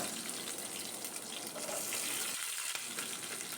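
Small shallots dropped into hot oil already crackling with mustard seeds and cumin: a steady, hissing sizzle, close and even, with no talking.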